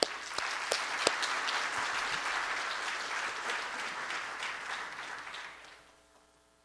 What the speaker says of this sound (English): please give me a round of applause for Rachael